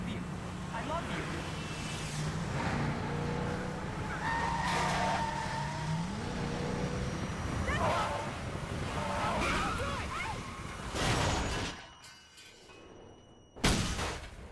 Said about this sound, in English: She causes her car to crash, and David wakes up disabled and disfigured.